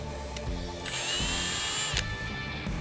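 A power drill with a 3/16-inch bit whines up in short bursts drilling metal on a Chevy Colorado, its motor pitch rising and shifting as the bit bites, loud and close with no talking.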